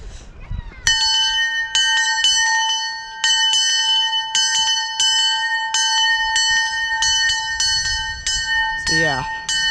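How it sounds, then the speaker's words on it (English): Steam locomotive bell displayed in a transportation museum, struck repeatedly in an irregular series of bright, ringing clangs that sustain and overlap, loud and close, with a voice briefly audible near the end. "on the way up you have this bell from a steam locomotive, and I'll ring it for you to give you a demonstration"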